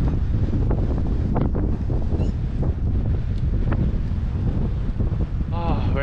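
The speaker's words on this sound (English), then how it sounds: "the mic will actually pick up the wind noise" Strong wind buffets a microphone while cycling on a bike track in Bangkok, a continuous rumbling roar throughout with a faint bit of background sound and a brief whistle near the end.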